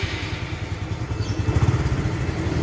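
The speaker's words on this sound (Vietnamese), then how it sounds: "Rồi ha, thì để mình nổ máy ra." A 2017 Honda Future 125 motorcycle engine idles close by with a steady, even throb and no speech over it.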